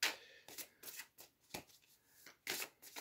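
Oracle cards are shuffled by hand in quick, soft riffling bursts, separated by short pauses, close and fairly quiet with no talking.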